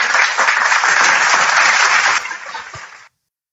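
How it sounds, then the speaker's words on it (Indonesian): An audience at an Islamic religious talk gives a teacher a steady round of dense applause that holds for about two seconds and then thins out before stopping. "Tepuk tangan buat guru kita."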